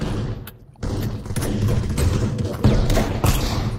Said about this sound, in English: Oh shit, somebody's shooting me.